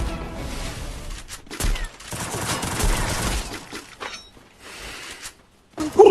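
Gunfire in the Free Fire battle royale game: loud, dense bursts of rapid shots fill most of the stretch, broken by short gaps and a brief lull before a final burst, with no talk over it.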